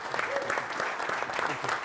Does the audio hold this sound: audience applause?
yes